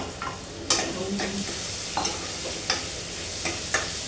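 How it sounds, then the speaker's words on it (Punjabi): Onions lightly frying in a pan on a hot day, stirred with sharp spatula scrapes roughly every half second over a soft, steady sizzle, heard up close without speech. "ਪਿਆਜ਼ ਆਪਣੇ ਹਲਕੇ ਜਿਹਾ ਭੁੱਜ ਗਏ ਆ"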